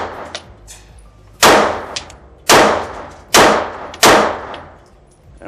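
Everyday-carry pistol shots ringing off steel targets: four loud, evenly spaced sharp bangs, each followed by a bright metallic clang and decaying ring, with fainter pings in the first second.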